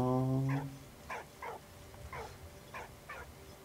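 A dog in Valiant Hearts: The Great War gives a series of six short, soft barks or yips at a moderate distance, following a fading sustained tone at the start.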